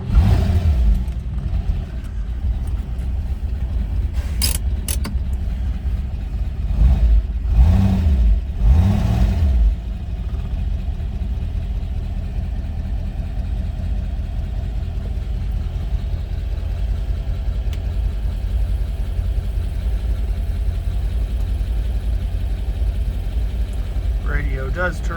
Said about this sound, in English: Let that truck go by so you guys can hear the engine better.